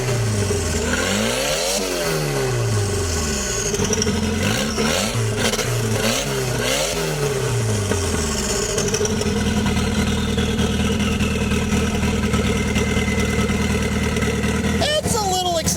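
A big-tire drag car with no exhaust fitted revs hard several times in quick rising and falling sweeps, its turbo whistle audible. It then holds a loud steady drone close by, with people talking underneath.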